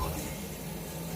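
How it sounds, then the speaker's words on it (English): Water running into a Dometic 310 RV toilet bowl as the flush pedal is pushed partway down, a steady close rushing hiss lasting throughout. "So before you use the toilet, you push down a little bit to get water in."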